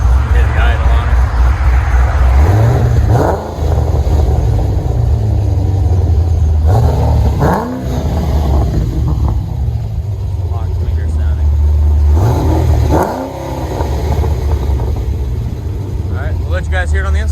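A loud, deep cammed 6.0L V8 in a 2016 Chevy Caprice with long tube headers and dual Borla exhaust, rumbling nearby with a lopey, uneven idle, punctuated by several sharp revs that rise and fall back to idle.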